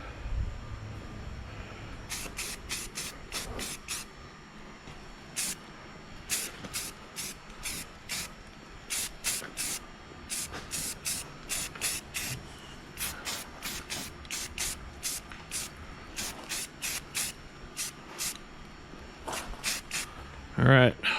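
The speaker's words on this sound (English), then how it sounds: "I primed the arms under where the bracket's pinched on there. Don't need a lot of primer," Spray primer from an aerosol can is dusted onto the arms of VW Split Bus style mirrors fitted to a Pinzgauer, as a run of short, sharp hissing bursts in quick irregular succession, fairly close.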